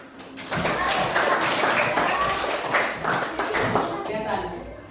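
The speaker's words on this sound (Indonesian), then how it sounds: "Ya, tepuk tangan." Hands clapping in a classroom group session, a brisk round of applause from students with voices mixed in among the claps.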